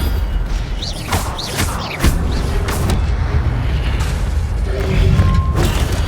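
A fire spell cast in Hogwarts Legacy flares with a rushing whoosh amid game booms and mechanical clatter, loud and close, with no talking over it.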